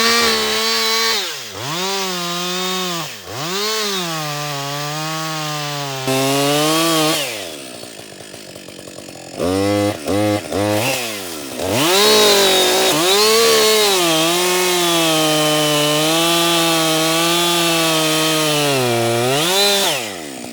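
A chainsaw, an ECHO CS-620P or Husqvarna 562XP, bores into a butt log while felling small timber, its engine revving loudly in bogging, rising and falling pitches, idling briefly midway before cutting again.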